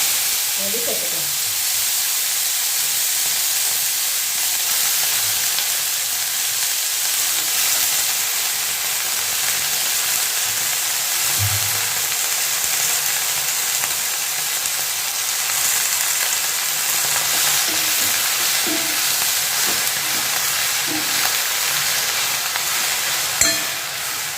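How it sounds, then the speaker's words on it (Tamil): Chopped banana flower fries in oil in a pan with a steady, close sizzle and hiss, broken by occasional soft scrapes and knocks of stirring. "இப்போ இதுலேயே நம்ம வாழைப்பூ சேர்த்துக்கலாம்."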